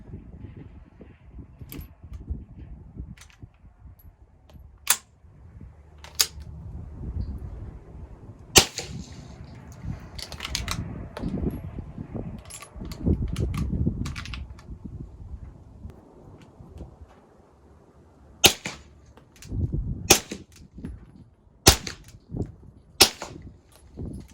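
Several sharp, muffled pops from gunshots through a gel-filled silencer, irregularly spaced, with wind buffeting and rustling between them.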